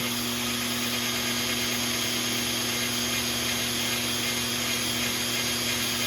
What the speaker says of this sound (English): it's literally just coming right off with this drill brush